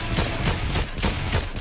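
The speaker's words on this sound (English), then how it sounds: "there's firing to northwest" Gunfire in Fortnite Chapter 4, a string of several shots in quick succession, punchy and fairly loud with some muffled reverberant booms between them.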